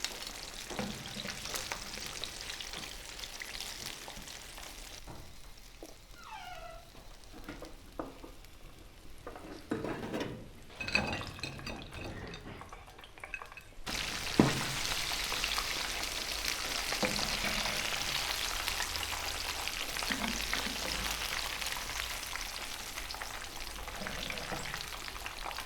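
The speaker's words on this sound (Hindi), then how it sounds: "चिकन हमने फ्राई कर लिया है" Zinger-style chicken pieces fry in hot oil, a steady sizzling hiss that runs throughout, with occasional scrapes and stirring clatter before it swells into a loud, dense crackle for the second half.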